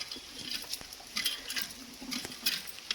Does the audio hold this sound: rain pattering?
yes